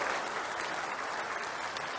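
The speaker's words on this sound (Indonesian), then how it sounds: "Kita kasih tepuk tangan dong untuk dua-duanya." Steady, dense applause from a studio audience at a televised Indonesian talk show, filling the two seconds with even, continuous clapping at moderate distance and no voices on top.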